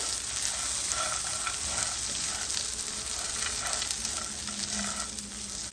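Green chillies, peanuts and garlic fry in a pan for Maharashtrian paneer thecha, giving a continuous close sizzle with soft stirring scrapes throughout.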